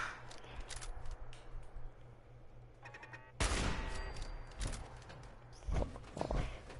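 Gunfire in the video game Fallout 4, with a dense burst of loud shots starting partway through and further sharp bursts near the end, above quieter footsteps and game sounds.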